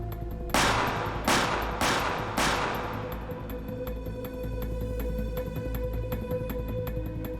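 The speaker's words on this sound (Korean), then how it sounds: "4발의 총성이 울려 퍼졌습니다." Four gunshots ring out in quick succession, sharp loud cracks about half a second apart, each trailing into a reverberant decay, followed by a lingering tonal hum.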